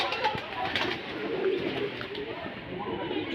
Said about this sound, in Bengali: এখানে কত পায়রা আছে